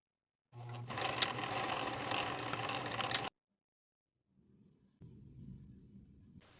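A sewing machine runs steadily for about three seconds, stitching the top edge of fabric with a 3/8 inch seam allowance, then stops; quieter handling noises follow.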